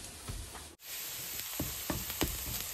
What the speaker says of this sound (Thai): เราจะ เจียวหอมกระเทียมด้วยไฟอ่อนๆ นะจ๊ะ